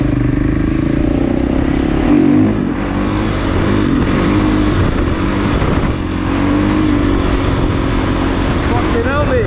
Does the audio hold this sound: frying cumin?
no